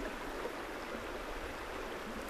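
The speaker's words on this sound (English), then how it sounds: "the sound of the river." A river flows in a steady, unbroken rush of water, soft and even for a couple of seconds with no voices.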